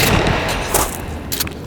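Shotgun fire in the survival video game Sons Of The Forest, heard as a dense stretch of heavy booming blasts and rumble that continues through the whole short span, loud and close.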